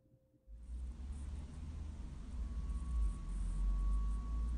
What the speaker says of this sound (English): this is the only one that has that strange electric sound throughout.